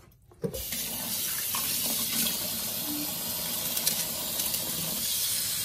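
Steady hiss of water running from a tap into a sink while washing cilantro, continuous and fairly close, with no voices.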